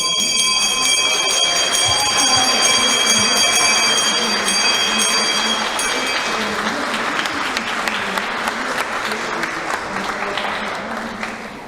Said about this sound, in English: even more people take the chance to ring the stock exchange bell